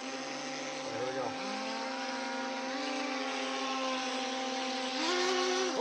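A boat's motor runs hard at speed as a steady, loud droning hum, with its pitch climbing as the throttle opens near the end.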